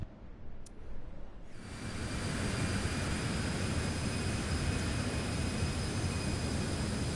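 Jet airplane noise in Microsoft Flight Simulator 2024, a Citation X flight, swelling after a quiet start into a loud, steady broadband roar that holds alone to the end.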